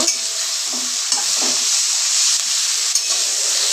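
Taro greens stir-fry with a hilsa fish head in a pan, a bright, loud sizzle punctuated by scraping stirs and small clacks of the spatula.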